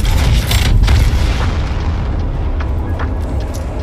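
A loud, close grenade blast booms at the start of a video game firefight, its rumbling roar slowly decaying over a few seconds with faint crackles after.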